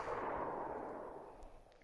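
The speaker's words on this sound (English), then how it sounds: "Got to remember how loud this VSD is as well." A VSD rifle shot in DayZ rings out as a loud, broad boom whose noisy tail decays over about two seconds.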